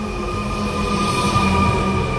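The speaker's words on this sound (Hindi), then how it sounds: "ये चली है पटना मेट्रो।" A Patna Metro train runs along the track with a steady, continuous rumble and a faint electric whine, close by and unbroken throughout.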